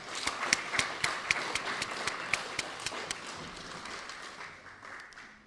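A round of applause for a professor at a formal gathering, a burst of brisk clapping with sharp, rapid claps that fades out toward the end, with no talking.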